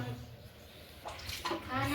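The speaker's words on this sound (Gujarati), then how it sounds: "વાસણ ઘસોય છે" Water runs and splashes as dishes are washed, with a person talking nearby over the noise.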